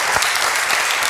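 Applause for Mohamed El Harbi from a Tunisian TV talk-show studio audience, a dense steady patter of many hands clapping close and loud for the whole brief moment, with no talk over it.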